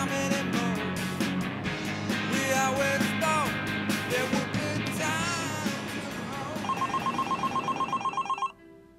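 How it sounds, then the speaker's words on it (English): A telephone rings in a tailoring shop, with a rapid trilling electronic bell ringing over busy background sound and brief voices, ending in a clear burst of ringing before cutting off. "Tia, can you get the phone?"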